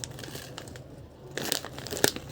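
A plastic bag of prunes being handled, with soft rustling that swells into louder crinkling and crunching near the end, close up and without speech.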